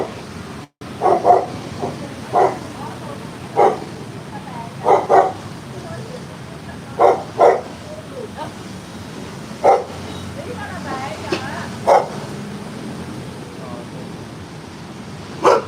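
A dog barks repeatedly in short separate woofs and yips spread over the stretch, fairly close, against a steady low background hum; some sounds may be people talking.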